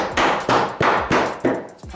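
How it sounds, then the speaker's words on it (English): Hammer pounding a wooden wall stud back into place during recording studio wall framing, five steady ringing blows in a quick even rhythm, close and loud with no voices. "you can just take your hammer"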